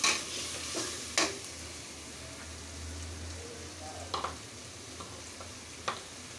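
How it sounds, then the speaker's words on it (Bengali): Fish being stir-fried together in a pan during home cooking, with a steady low sizzle and a few sharp scraping clicks from stirring, close and alone without talk. "এখন মাছগুলি দিয়ে একসাথে আমি কষাবো।"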